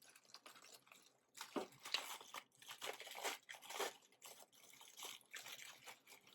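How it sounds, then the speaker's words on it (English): A double-wrapped food package pulled open at close range, with bursts of crinkling plastic and tearing wrapper that come and go over several seconds. "it's taking me a second to get this open because it's kind of double wrapped on the inside"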